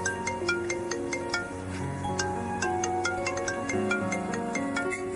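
A mobile phone rings with an incoming call, its melodic electronic ringtone playing steadily and clearly throughout, with bright repeating tones and no talking over it.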